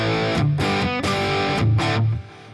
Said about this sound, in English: So I've got a guitar track here that sounds like this.